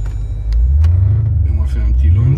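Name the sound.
Jeep Grand Cherokee SRT stage 2 launching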